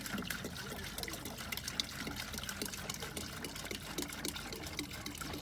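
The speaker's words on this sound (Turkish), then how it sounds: "Suyunu dolduralım şimdi." Water trickles and splashes as it is poured into a pigeon drinker, a soft close dribble with small irregular drips and plinks, fairly quiet and without talk.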